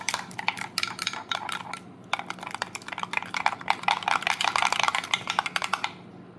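Eggs seasoned with salt and black pepper whisked with a fork or spoon against a bowl, a rapid run of close, light clicking and tapping strokes that pauses briefly, then resumes faster and more densely until stopping.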